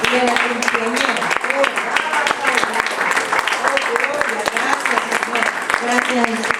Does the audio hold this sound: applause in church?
yes